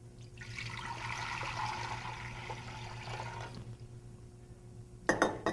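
Tap water runs and pours into a stock pot in a kitchen, a steady close splashing and gurgling stream for several seconds, then stopping, followed by a couple of metallic clanks of the pot.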